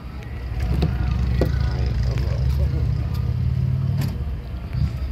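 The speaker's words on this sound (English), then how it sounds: "And the vehicle is running, just so you could kind of get a feel for what it sounds like." Vehicle engine idling, a steady low hum under faint interior noise, with a few soft clicks and taps over the continuous drone.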